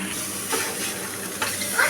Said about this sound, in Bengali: মাছের ডিমের সাথে ঝিঙে আর বেগুনকে ভেজে নিচ্ছি